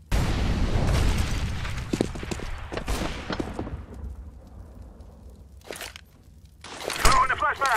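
An incendiary fire grenade thrown in a video game, heavy booming bursts and crackling impacts early on, a quieter stretch, then more sharp bangs, with voices calling out over the action.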